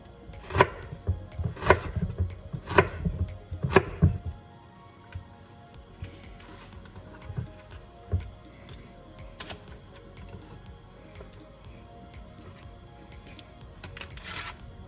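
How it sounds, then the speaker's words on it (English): A knife cuts an onion on a cutting board for spaghetti, with four or five crisp, evenly spaced chops up close, then quieter scattered taps and a couple of sharper knocks. "And the onion, honestly, I just cut however."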